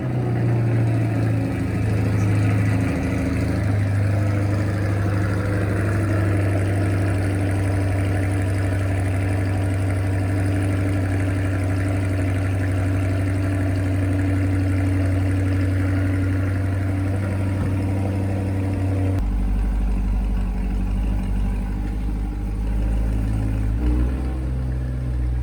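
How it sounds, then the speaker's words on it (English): A Chevrolet Corvette C8 idles through quad square tailpipes in a deep, steady burble, with one slight blip and a shift in the low rumble near the end. "I'll play a clip of the exhaust right here for you to listen to"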